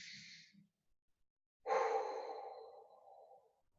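Deep breathing during a side plank exercise in a beginner core workout: a short exhale, a pause, then a long, audible breath that fades out slowly, close and quiet, with no talking.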